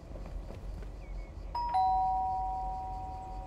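A doorbell in the video game Lake gives a clear electronic chime with a long ringing tone that slowly fades over quiet background ambience.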